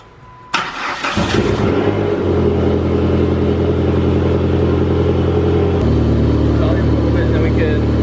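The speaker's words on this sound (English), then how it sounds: "Start the car." A Chrysler PT Cruiser GT with a converted intake manifold cranks briefly and then starts with a loud burst. It settles into a rough, close idle and revs up slightly near the end, with people talking over it.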